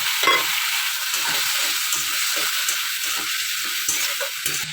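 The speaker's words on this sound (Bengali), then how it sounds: "এটা দিয়ে আর একটু ভালো করে কষিয়ে নিই" A tomato and egg curry seasoned with cumin and black pepper powder being stir-fried in a pan, giving a close, continuous frying hiss with repeated scraping stirs and no voices.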